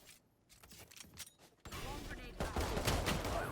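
Pistol fire in the shooter game Valorant, a rapid burst of sharp shots breaking out after a quieter stretch of scattered clicks, loud and close, with game sound effects layered around it.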